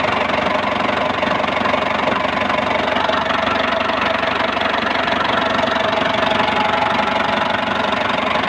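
A Ford Explorer with a 4.0 engine runs steadily, a continuous idling drone with a faint knocking texture, close and fairly loud throughout, with no voices.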